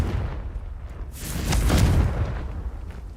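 A Confringo fire spell in the Hogwarts Legacy video game bursts into a booming explosion, a whooshing rise building into a deep, rumbling blast that fades away over a couple of seconds.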